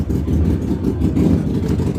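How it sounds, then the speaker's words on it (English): Loud, steady engine rumble from several motorcycles idling and revving nearby at the 2022 One Moto Show, a continuous low growl with no voices. "We're at a motorcycle show, so you're hearing motorcycles behind us."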